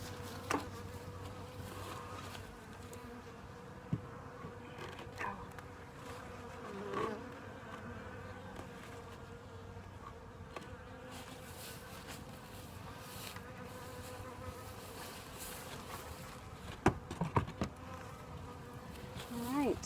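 Honey bees buzz steadily around an open hive during spring colony care for foulbrood and mite control, a dense continuous drone with occasional closer passes and light clicks of hive handling.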